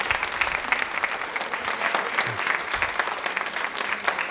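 A studio audience at a televised quiz show claps loudly and steadily, a dense continuous applause close by with no talking over it.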